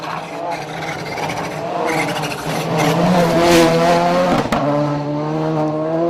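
An R5 rally car on the SS7 Elibank special stage drives past, its engine note climbing and swelling as it nears, with a brief tire scrub midway before the loud, rasping engine holds on as it goes by.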